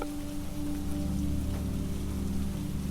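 Rain patters steadily around a cabin by the sea, a soft constant wash of drops with a low hum beneath, unbroken and free of speech.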